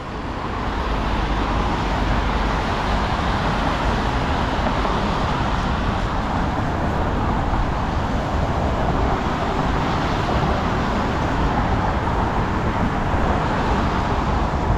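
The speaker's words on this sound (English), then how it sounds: "See all the traffic on the BQE." Heavy traffic on the BQE beside the Brooklyn Bridge sends up a continuous dense roar of passing cars and trucks. It holds at a steady level throughout, with no distinct individual vehicles and no voices.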